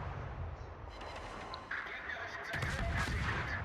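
Distant booming naval gunfire from an enemy ship in a naval combat video game, a dense rumbling barrage with crackling bursts layered over steady low engine and sea noise.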